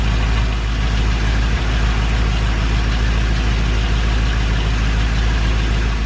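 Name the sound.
engine cold start lifter tick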